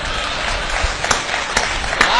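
An audience applauding a satirical talk at a Hindi poetry or speech event: a dense, loud wash of clapping from many hands, close and continuous with a few sharper individual claps.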